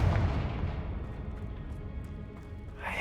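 A Confringo fire spell bursts in the Hogwarts Legacy video game, a heavy rumbling explosion that booms loud at the start and decays into a long low roar.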